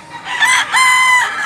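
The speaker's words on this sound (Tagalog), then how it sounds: "Napakagandang manok dol." A yellow-legged rooster crows loudly and close by at a market in Mantalungon, Cebu, a short strained call with a rising, wavering tone.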